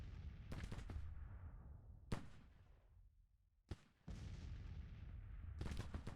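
Civil War troops firing in the strategy game Grand Tactician: sharp, distant-sounding gunshot cracks and rolling volleys separated by brief quieter gaps, all fairly faint, with no talking.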